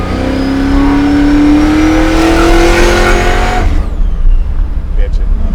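A supercharged 750 hp Chevy Nova pro-touring muscle car revs hard and loud, engine pitch climbing steadily as the rear tires break loose, then the roar cuts off abruptly into a rough, rumbling idle.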